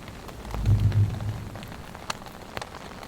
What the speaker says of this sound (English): The rain is picked back up again. It's coming down.